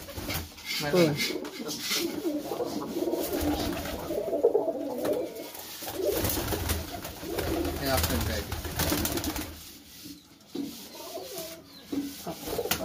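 Lotan pigeons coo nearby in soft, rolling repeated calls, with rubbing and shuffling sounds and a voice speaking intermittently over them.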